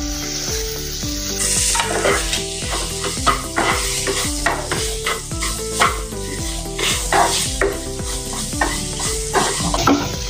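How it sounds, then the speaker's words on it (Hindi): Fried ridge gourd and potato pieces are stirred into gram flour roasting in oil, giving a steady loud sizzle with repeated scraping strokes of a spoon against the pan at an even rhythm and no voices. "अभी इसमें हम जो हमने तले हुए थे तुरई और आलू को इसमें डाल देंगे"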